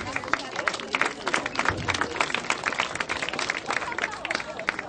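Audience applause for a prize winner at a sports event in Schwerin, a steady spread of many hands clapping with crowd murmur mixed in, moderately loud and continuous.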